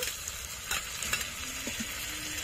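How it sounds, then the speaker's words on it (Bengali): Ginger-garlic and spice pastes stirred and fried in a pan for a meat ghugni, a steady close sizzle with soft scraping strokes of the spoon throughout. "আদা ও রসুন দিয়ে কিছুক্ষণ নেড়ে নেব।"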